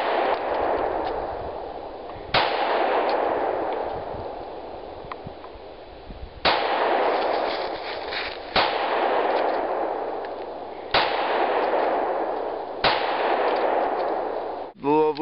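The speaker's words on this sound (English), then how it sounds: "The lovely Janae, it's her first time shooting a pistol." Pistol gunshots at an outdoor range by a first-time shooter, five or six sharp loud cracks spaced a couple of seconds apart, each with a brief ringing tail, no talk.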